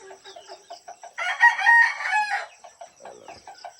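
A two-month-old farm rooster crows once in a loud, harmonic burst that lasts about a second. Softer, rhythmic clucks come before and after it, close by.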